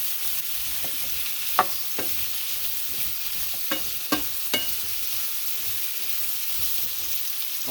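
Boiled potatoes stirred into spices in a frying pan: a steady soft sizzle broken by several sharp scraping clicks from the spoon, close and unaccompanied by talk.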